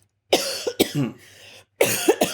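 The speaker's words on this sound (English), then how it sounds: "I have to cough." A few harsh coughs in quick bursts, with short gaps between them and a quieter raspy breath in the middle, close and fairly loud.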